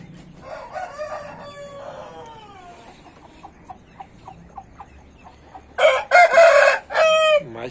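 A young rooster, a new cockerel in a backyard flock, lets out a loud, close, strained crow near the end, after a stretch of softer, scattered bird calls.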